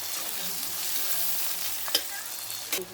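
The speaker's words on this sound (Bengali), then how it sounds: "পেঁয়াজটাকে আমরা লাল লাল করে ভেজে নেব হালকা করে একটু ব্রাউন কালার" Onions frying and browning in a pan over a wood fire, a loud continuous sizzle up close with two brief scraping stirs near the end.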